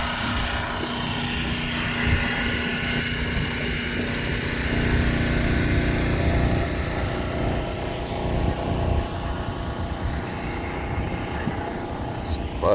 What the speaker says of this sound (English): Generator going.